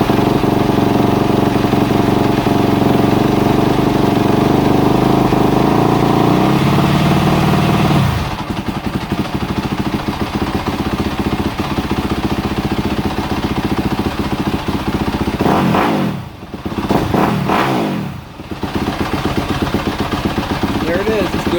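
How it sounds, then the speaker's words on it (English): A 2019-2023 Yamaha YZ250F dirt bike engine runs loud and close with the choke on, a dense high idle that drops in pitch partway through and then dips briefly twice as if revs wobble. "I'll turn the choke on and start it up, get it idle pretty high"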